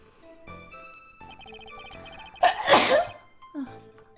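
A single loud sneeze bursts out near the mic over background game music with beeping tones, followed by a short breathy sound.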